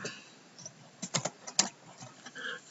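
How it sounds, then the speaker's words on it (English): A name being typed on a computer keyboard, a quiet irregular run of close key clicks with small clustered bursts, no voices over it. "Then you can type in your name."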